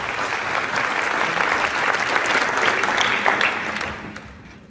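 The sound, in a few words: applause at a gala evening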